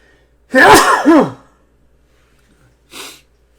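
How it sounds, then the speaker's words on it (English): A single loud sneeze with a sharp vocal burst, followed by a brief quiet sniff about two seconds later. "I got to sneeze."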